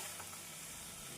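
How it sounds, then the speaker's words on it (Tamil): Onion and tomato sauté in a pan for a traditional brinjal kuzhambu, giving a soft, steady sizzle that stays faint and continuous through a very short stretch, with no voice. "நாம் தக்காளி சேர்த்து நன்றாக வெங்காயத்துடன் வதக்க வேண்டும்."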